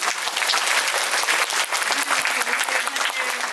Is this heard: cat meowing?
no